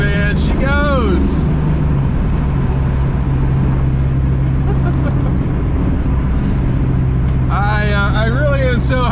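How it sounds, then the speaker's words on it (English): A loud car, a Ford Focus convertible, pulls onto a highway in second gear with a steady droning engine note under a voice, which speaks at the start and again near the end. "Let's just do a little acceleration here."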